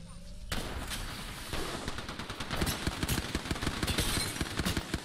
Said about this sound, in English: She's shooting you.